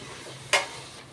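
Drumstick (moringa) pieces are stirred in hot oil for a chicken curry. A low background sizzle is broken by one brief, bright scrape and sizzle burst from the stirring.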